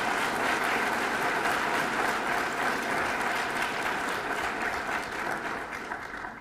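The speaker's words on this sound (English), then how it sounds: "please give them the applause they so richly deserve." Audience applause at a 2012 GED graduation ceremony: a dense, steady wash of many hands clapping that fills the hall and slowly tapers toward the end, with no speech over it.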